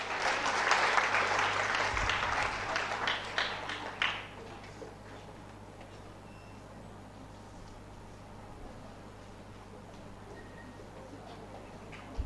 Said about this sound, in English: Girls, please give a huge round of applause for him